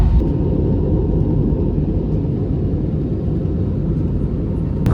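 Airplane accelerating down the runway for takeoff, heard from inside the cabin as a loud, steady low engine roar and rumble that persists throughout.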